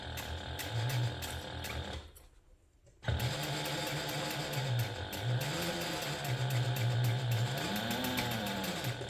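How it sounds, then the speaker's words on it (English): Sewing machine stitching handbag panels together with a 3/8 inch seam allowance, a close, steady motor whir running continuously with one short pause partway through. "I'm going to sew it together using a 3/8 inch seam allowance"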